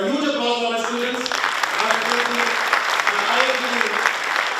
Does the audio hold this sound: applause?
yes